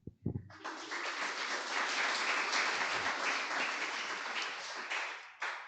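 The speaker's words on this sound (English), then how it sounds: "A round of applause for Aesthetic Calculations" A seated audience at a talk breaks into sustained, even applause that starts after a brief thump, holds steady for about five seconds, then stops abruptly.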